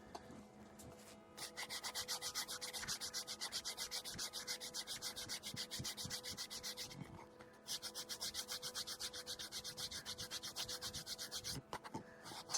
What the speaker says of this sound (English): so we might have to do some more sanding.